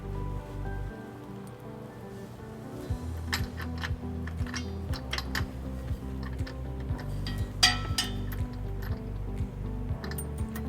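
A conical washer, nut and block clink together on a rear bolt during a trailer hitch installation on a 2015 Jeep Cherokee. Sharp, scattered metallic taps and chinks sound up close over a low, steady background hum.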